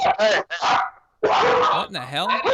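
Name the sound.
dog barking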